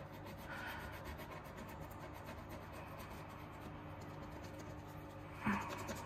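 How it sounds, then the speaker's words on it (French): Coin scratching the panel of a scratch-off card, a quiet, steady close rubbing and rasping that runs throughout, with a brief louder scrape near the end. "On va gratter une pastille."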